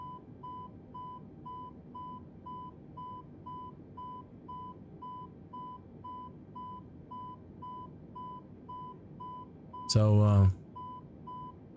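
The door ajar warning in a flight simulator cockpit beeps in a steady, evenly spaced repeating pattern throughout, moderately loud and tonal, with a brief voice speaking near the end.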